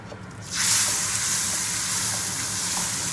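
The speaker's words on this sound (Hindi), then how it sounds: "अब हम इसको दाल के अंदर जो है वो ऐड कर देंगे।" A hot garlic and ginger tarka is poured into a pot of red lentil masoor dal, setting off a sudden loud sizzle that bursts in after a quiet moment and keeps hissing steadily.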